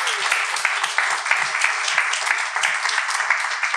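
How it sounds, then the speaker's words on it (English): A small listener audience at a podcast event gives a round of applause, moderately loud and even, with individual claps distinct within the steady patter and no talking. "let's give her a big round of applause."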